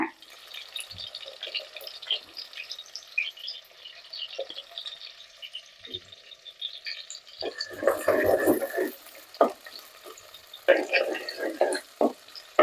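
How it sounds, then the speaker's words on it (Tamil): Garlic and small shallots fry in a pan for fish curry, a soft continuous sizzle with stirring scrapes and clatters growing louder midway, close up, while someone speaks over it. "பூண்டு போட்டு ஒரு ரெண்டு நிமிஷம் வதங்கட்டுங்க"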